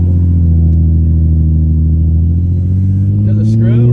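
A BMW 335is engine drones loud and deep from inside the car while driving, a steady low hum that climbs slightly in pitch toward the end as someone talks over it.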